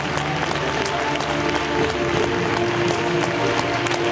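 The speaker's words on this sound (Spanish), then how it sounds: "Aplauso a los 18 finalistas." The audience at the Mr. Cosmos España 2016 pageant applauds the 18 finalists, a loud, sustained wash of clapping with a faint crowd murmur and some music-like tones underneath.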